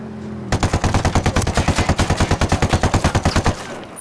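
Fully automatic gunfire in the game Ghost Recon Wildlands: one sustained rapid burst of about thirty evenly spaced loud, close shots lasting three seconds, then stopping.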